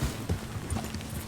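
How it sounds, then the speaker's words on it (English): Horse hooves clip-clop at a quick gallop in Red Dead Redemption 2, a close, uneven run of thuds over a busy game background with no talk. "He ran right into me with his horse."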